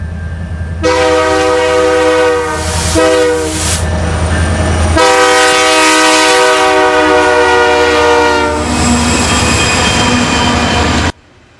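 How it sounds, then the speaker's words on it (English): A CSX SD70ACe locomotive leading a westbound sand train in Chicagoland sounds its horn in loud, close blasts, one short and then longer sustained chords over the rumble and squeal of passing rail cars, ending abruptly. "CSX as CP 7032 and SD 70 ACU leads a westbound sand train"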